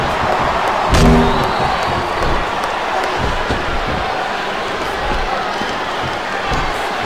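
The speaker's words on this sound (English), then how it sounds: "This capacity crowd is making their opinions known tonight" A capacity arena crowd in a wrestling video game roars and cheers in a steady dense wash, with a brief louder swell near the start.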